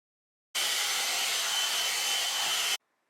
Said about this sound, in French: le bruit du sèche-cheveux, c'est un bruit de sèche-cheveux classique.